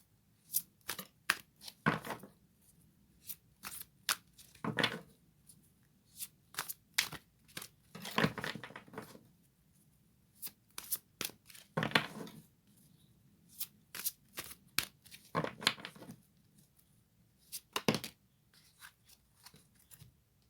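Fairy tarot cards shuffled by hand in repeated bursts of crisp riffling and flapping, with short pauses between rounds, close and moderately loud with no talking.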